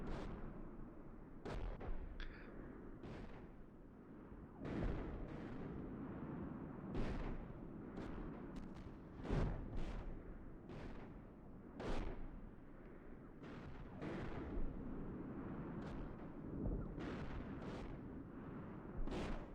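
Incoming fire lands around a position in the tank simulator Steel Beasts Pro PE: a long, irregular series of muffled booms and impacts, fairly faint and distant, spaced a second or two apart.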